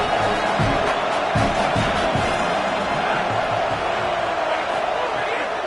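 A hostile stadium crowd at a Penn State football game keeps up a constant, dense roar with a few louder swells, under steady play-by-play talk.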